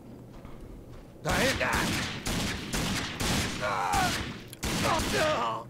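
Several loud bursts of gunfire from the Rage video game, including an enemy's shotgun, crack in distinct groups separated by short gaps, with someone talking in between.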